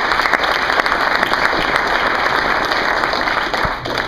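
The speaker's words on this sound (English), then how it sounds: "So let's just give a warm round of applause for Jacob." Dense, steady applause from a crowd at a solar energy summit keynote, loud and sustained throughout with no pause or speech.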